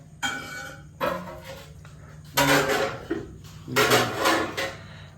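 Plates and dishes clatter and clink in several bursts as rice and curry are served at home, with crockery knocking together in short handling sounds and quiet gaps between them.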